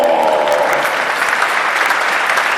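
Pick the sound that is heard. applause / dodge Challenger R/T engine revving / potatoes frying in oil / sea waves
applause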